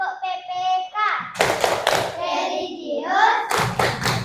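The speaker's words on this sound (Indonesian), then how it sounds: "tepuk tangan dulu" A class of children chants together, then breaks into bursts of sharp, rhythmic hand claps and thumps, alternating voices and clapping in a group routine.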